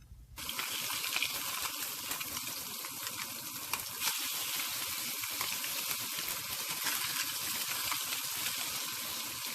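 Blackened fish fillet frying in a pan gives a steady, dense sizzle that fills the whole clip without a break. It stays close and fairly loud, with no talking over it.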